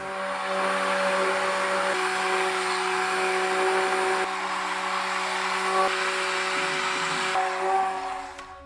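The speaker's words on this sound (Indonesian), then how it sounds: "Sebelum melakukan pengadukan, pastikan mixer Anda bersih." An electric mixer whirs steadily while stirring a JADAM pesticide solution, a continuous close motor whine with a couple of slight shifts in pitch and no speech.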